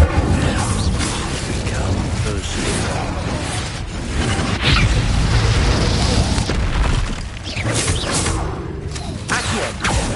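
Incendio fire spell cast in Hogwarts Legacy, a loud, dense whooshing burst of flame and booming combat effects that run on continuously under busy game noise and music.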